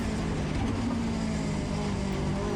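A Mazda MX-5 Cup race car's engine drones steadily on a race track, a loud, continuous mechanical roar with no speech over it.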